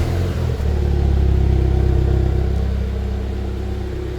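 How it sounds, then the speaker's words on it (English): A 2026 MINI JCW 3 Door Victory Edition fires up on a remote cold start, its engine catching with a brief surge and then settling into a steady, loud, low idle rumble. "let's just do a little remote engine start, cold start"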